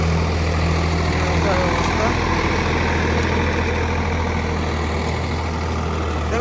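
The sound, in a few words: Swaraj 744 FE tractor engine running at 1300 rpm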